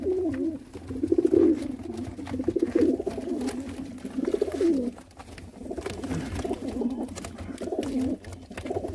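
Border breed pigeons at a sale in Jammu coo in repeated low, throaty rolls, several birds close by in an overlapping rhythm with short pauses.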